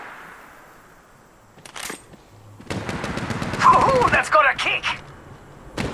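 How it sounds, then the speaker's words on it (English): Gunfire in the mobile shooter Apex Legends Mobile, with a quick burst of loud, rapid shots mixed with game voice lines and bits of action noise. "I'm taking fire."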